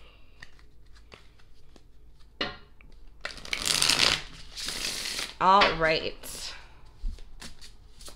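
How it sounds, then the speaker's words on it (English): Tarot cards are shuffled in several quick riffling bursts, crisp and close, with someone speaking briefly between them. "One more shuffle."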